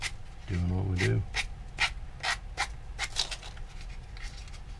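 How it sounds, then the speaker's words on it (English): Sandpaper rubbing along the molded seam of a small plastic pilot figure for a Guillow P-47 model, a series of short, close, dry scraping strokes at a steady rhythm, with a brief low hum at the start. "we'll just make sure we don't remove too much of that as we're sanding around on the seam"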